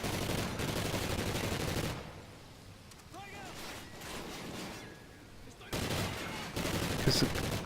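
Bursts of automatic gunfire from the Call of Duty Ghosts campaign, dense rattling volleys at the start and again near the end with a quieter lull between, with someone talking over the game.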